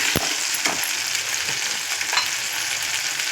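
Masala fries in a pan for a tomato and ridge gourd curry, giving a steady close sizzle broken by a few scraping stirs of a spoon.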